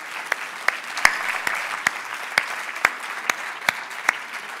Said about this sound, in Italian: Ringraziamo il nostro ospite con un bello applauso.